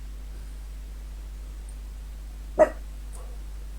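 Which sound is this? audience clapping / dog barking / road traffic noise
dog barking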